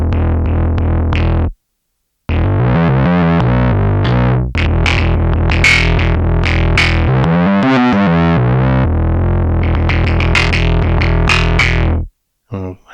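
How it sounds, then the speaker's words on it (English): A Surge XT synthesizer bass guitar patch with its drive turned down plays a run of loud, plucked bass notes with some grit. A short gap comes after the first phrase and another near the end. "let's turn the drive down some, so that it will continue to sound somewhat like a bass at least"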